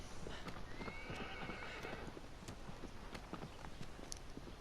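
A horse in the Shadow of the Colossus video game whinnies briefly. Its hooves clip-clop in a steady stream over a constant wash of background noise.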